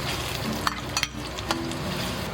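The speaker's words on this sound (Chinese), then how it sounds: "这个是一些葱白哈，就直接给它切一切，然后放去给它小火炸" Chopped scallion whites frying in cooking oil in a wok over low heat, a steady close sizzle with a few light clicks of a utensil against the pan.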